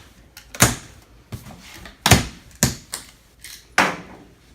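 Straps being cut on the shipping box of a quick-connect ductless mini-split unit: five or six sharp snapping cracks spaced irregularly, loud and close, with no talking.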